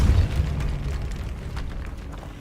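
A Depulso spell blasts apart a stone barricade in Hogwarts Legacy, a heavy booming burst up front that decays into a rumbling, crumbling tail, loud and without talk.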